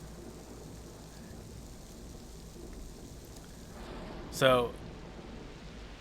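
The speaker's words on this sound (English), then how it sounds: "the snow turned to rain" Steady in-game rainfall in Shenmue hisses as a constant wash, with a brief louder burst near the end and a short word spoken over it.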